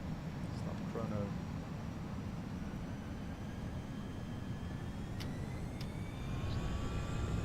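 Airbus A320 takeoff in a flight simulator: a loud, steady engine roar with rising whine tones that continues throughout, with no clear talk over it.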